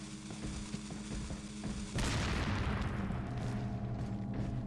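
Gunfire in Resident Evil 4 breaks out as a sudden loud burst of bangs and booms, like firecrackers, after a stretch of quieter game noise, then lingers as a dense, rumbling wash.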